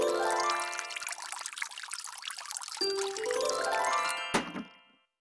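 Cartoon water pours from a can onto plants in a bright, continuous stream with trickling and tinkling tones, ending in a short splash before fading out.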